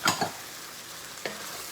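Minced garlic hits hot butter in a pan over high heat, giving a soft, steady sizzle broken by a couple of stirring clatters at the start and another a second later; no one speaks.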